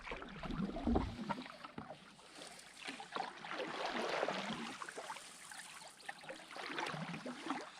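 Canoe paddling on Smooth Rock Lake in the boreal wilderness of Wabakimi: soft, rhythmic water swishes and gurgles from paddle strokes, close by, alongside a continuous watery wash and no talk.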